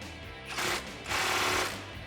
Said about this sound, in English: Grab your 13mm socket and tighten this down.